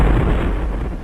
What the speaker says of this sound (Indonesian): Ya, bola ondel-ondel meledak.